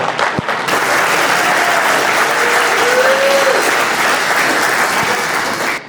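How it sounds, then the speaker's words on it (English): A fundraising event audience claps loudly and continuously for several seconds, dense sustained applause from a crowd in a room. "Let's give her a round of applause."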